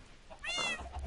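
A single drawn-out Minecraft cat meow rises and falls over about half a second, fairly close, with a faint low hum behind it.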